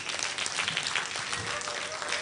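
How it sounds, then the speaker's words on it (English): Audience applause for a Women in Manufacturing panel at a women's economic forum, a steady broadband clapping wash lasting a couple of seconds at moderate level, fairly even throughout without voices on top. "please clap for them"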